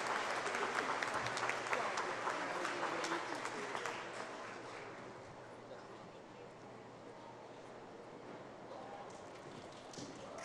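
A graduation ceremony audience applauds for doctoral degree recipients, a broad steady clapping that is strongest at first and gradually thins and softens toward the end.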